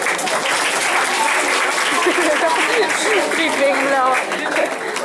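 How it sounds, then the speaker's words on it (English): An audience at a school English festival applauds a judge being introduced, a loud, dense, sustained wash of clapping with some crowd voices mixed in. "let us give a warm applause to our second judge, Ms. Lilani Chirpar"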